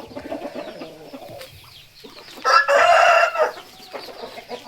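Young roosters in a Thai flock crow and cluck, with scattered clucks early on and then a loud, close crow burst near the middle, followed by quieter clucking.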